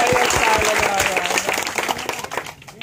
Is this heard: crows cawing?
no